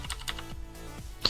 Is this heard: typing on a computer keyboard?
yes